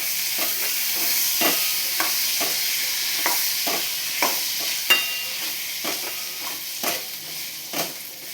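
Rajma (kidney beans) stirred into hot frying oil in a pan: a steady sizzle runs throughout, broken by regular scraping strokes of the spoon, close and with no talking.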